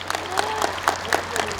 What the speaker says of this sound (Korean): 박수 소리 다시 한번 들려주시겠습니까?